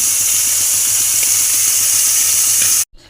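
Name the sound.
shrimp frying in oil in a pan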